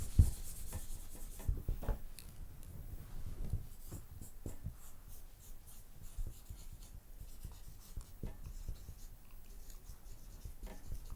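A pen or pencil writes a number for an exponent lesson, a close, soft scratching that comes in short strokes and pauses over several seconds.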